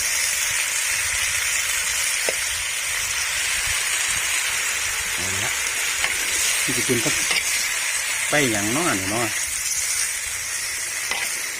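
Water spinach sizzles and hisses steadily in a hot wok while a voice speaks briefly and faintly over the stir-frying.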